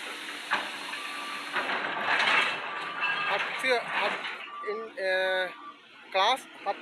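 A steady hiss comes from a Class 781 freight train as it is loaded with stone at Kadugannawa, heard under ongoing talk.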